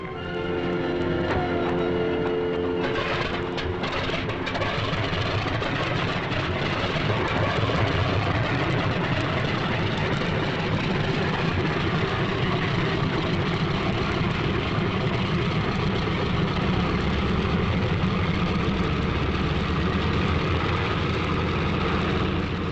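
Engines of World War II US 8th Air Force bombers rumble on the ground before takeoff, a dense, loud and unbroken low drone that thickens and builds slightly after the first few seconds, with no voices.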